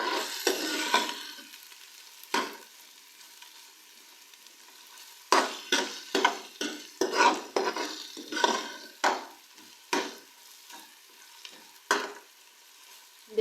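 Garlic paste and lightly browned onions fry in a pot for mutton yakhni, a soft sizzle broken by repeated close scraping stirs of a spoon against the pot, irregular and loud, with no talking.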